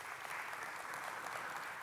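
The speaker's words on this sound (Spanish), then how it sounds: "Denle un fuerte aplauso al Señor" A church congregation applauds during a service: steady, dense clapping from many hands fills the whole stretch at an even level, with no voices standing out above it.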